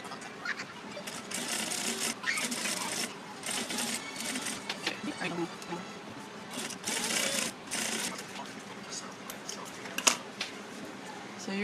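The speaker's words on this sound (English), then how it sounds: "you just stitch along it" A sewing machine topstitches along the rolled edge of leather wallet card slots, its rapid needle chatter running steadily for the whole stretch with short pauses and faint background noise.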